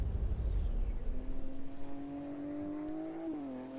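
Race car engine in the Automobilista 2 video game, a single close, clear engine note climbing steadily in pitch as it revs through the gears, then dipping sharply at a shift near the end, heard alone.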